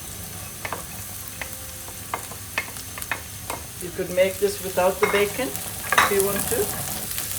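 Bacon and nuts cook in a pan over a low flame, sizzling and popping with clicks and scrapes from stirring; a person speaks briefly, and the frying gets busier and louder in the second half.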